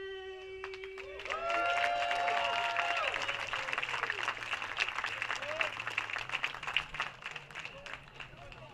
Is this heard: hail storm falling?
no